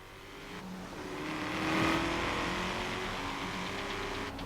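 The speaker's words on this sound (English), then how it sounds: "Nice sort of grunt to the engine note." A car engine in the Forza Horizon 3 racing game, a gritty, grunting note that swells to a peak and then holds a steady drone, with no talking.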